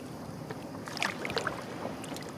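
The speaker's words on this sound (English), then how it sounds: "like you let a whole bunch of water go over at once" A brief splashing rush of water spilling over all at once, with scattered bright splashes over a quiet background.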